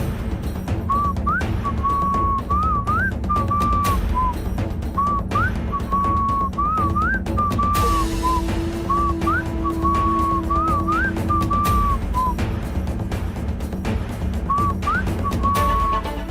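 A person whistles softly as a signal, giving a run of short rising and wavering notes over a low background hum, in a scene from a Telugu TV serial.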